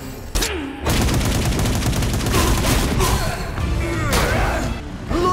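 Gunshots and clashing combat effects in the Ruined King video game, a dense loud volley of shots and impacts following a brief opening hit, with voices over the fighting.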